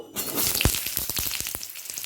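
Potato pieces crackle and sizzle as they go into hot oil left from frying lentil dumplings, with a loud burst at first and then a run of sharp popping crackles close by, with no talking.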